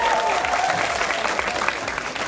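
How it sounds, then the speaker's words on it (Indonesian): Steady, dense applause fills a packed hall at a youth festival, continuous and fairly loud throughout, with a faint voice briefly audible at the start. "tepuk tangan buat semua yang hadir di sini."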